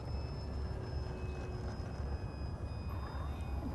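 A Focke-Wulf FW190 radio-controlled model plane flies at reduced throttle with a faint, thin electric whine and a steady whirring drone over wind and outdoor noise.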